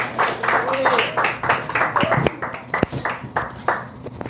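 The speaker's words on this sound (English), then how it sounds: "Clap, clap it up for Winnie" Audience at a pro-amateur stand-up comedy night in Toronto clapping and applauding as a comedian comes to the stage, a run of sharp claps at close range, some louder and more isolated toward the end.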